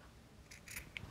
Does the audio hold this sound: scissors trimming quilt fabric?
yes